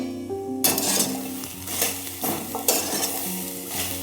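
Okra frying in oil in a hot kadai: a soft sizzle under repeated scraping and clinking as a metal spoon stirs against the pan in irregular strokes, with no voices.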